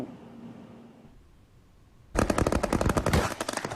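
Quiet rumble, then a loud burst of rapid, repeated blasts from artillery in an army live-fire drill on Kinmen, continuing densely to the end.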